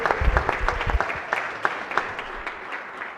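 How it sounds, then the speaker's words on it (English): Scattered clapping from people in a state senate chamber, with a burst of sharp claps at first that thins into sparse, separate claps over about three seconds. "So we'd like to all make a big round of applause to wish Chairman Brian Feldman a happy, happ"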